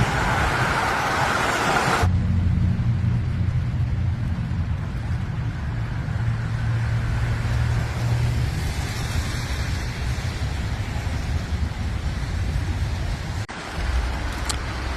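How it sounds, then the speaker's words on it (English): Freeway traffic on the 101 in Studio City, a continuous loud roar of passing vehicles with low engine rumble heard from close by, steady for the whole stretch. "Here is a little bit of the 101 traffic"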